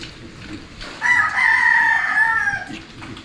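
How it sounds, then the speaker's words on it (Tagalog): A rooster crows loudly and close by in one long, sustained call, with faint chicken clucking before and after it in an outdoor yard. "Ba, may manok na naman dito"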